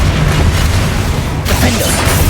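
Confringo spell explosion in Hogwarts Legacy: a dense, loud booming blast filling the whole moment with rumbling low-end roar and crackle, sustained with a brief dip midway.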